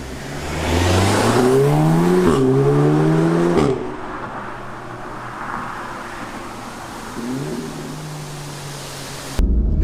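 A 2016 Audi S3 driven in manual at about 40% throttle accelerates loudly, its engine note rising through a gear, then a sharp upshift with an exhaust pop before it settles into a quieter steady cruise.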